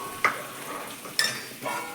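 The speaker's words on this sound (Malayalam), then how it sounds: "മുളക് വെള്ളം തിളച്ച് വരുന്നുണ്ട് കേട്ടോ" Chilli water simmering and bubbling in a pan, a soft continuous sizzle broken by a few sharp clinks of utensils against the pot, close and fairly quiet with no voices.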